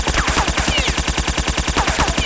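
Rapid automatic gunfire in Counter-Strike: Condition Zero, a steady rattling burst of evenly spaced shots, loud and close, running the whole moment without talk.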